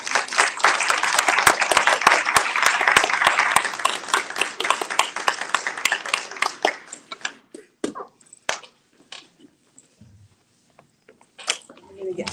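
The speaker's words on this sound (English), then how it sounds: "Please give a round of applause to Melissa Harris." A small audience at a talk on the Gospel of Thomas claps briskly for the speaker, loud and crisp for about six seconds before trailing off into scattered claps and a voice.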